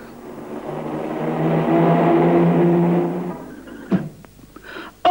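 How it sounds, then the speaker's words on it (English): A car engine approaches and holds a steady, loud hum with clear tonal harmonics for about three seconds, then cuts off, followed by a sharp impact-like thud and a few brief scraping clatters. "Willy has been knocked down by a car!"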